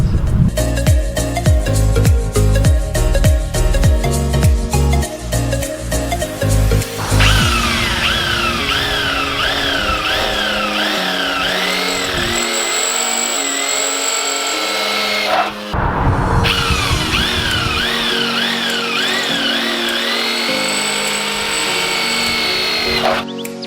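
A power drill bores holes into a metal oil cooler bracket on a MK1 Mazda MX-5 Miata, the bit whining loudly and steadily with wavering pitch through two long runs separated by a brief pause.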